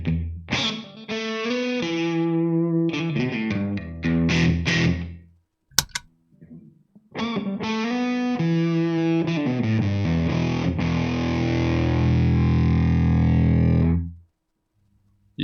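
Fuzzy, distorted electric guitar from a Stratocaster on the in-between neck-and-middle pickup setting through an MXR Classic 108 Fuzz pedal, playing loud chords and riffs with a short pause midway, then a long sustained chord ringing out.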